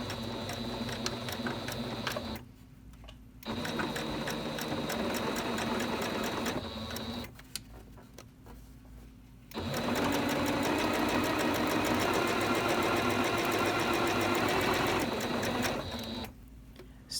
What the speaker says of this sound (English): I will sew about 1/4 to 3/8 of an inch all the way around.